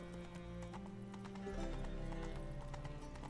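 Clip-clopping hooves of Roach, the horse in The Witcher 3 game, trotting steadily and close, with a brief whinny over a busy background of game music and ambience.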